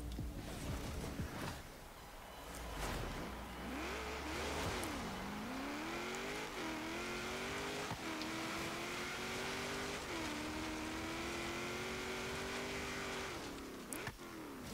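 A 2015 Chevrolet Camaro Z/28 in Forza Horizon 3, on a snowy hill-climb course, revs hard through repeated gear changes. Its loud, rising engine note carries on continuously with brief dips between shifts and no talking.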